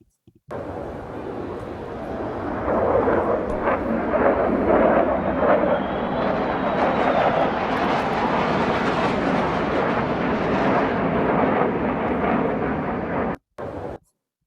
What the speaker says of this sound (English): le sobrevuelan B-2 por encima de la cabeza de Vladimir Putin